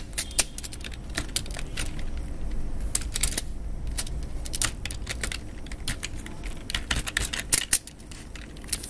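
Rapid clicking keystrokes on a computer keyboard, close and clear, in uneven bursts with brief pauses, no speech.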